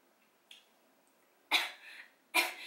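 A person coughs after eating spicy noodles: a faint first cough, then two sharp, close coughs about a second apart in a quiet room.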